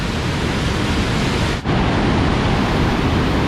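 Tat Sae waterfall near Chiang Ngoen, Luang Prabang, gives a loud, steady broadband rush of falling water, unbroken except for a brief dip.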